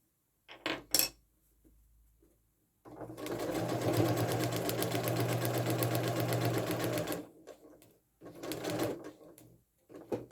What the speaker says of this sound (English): then stitch along the line to this point here, into this seam allowance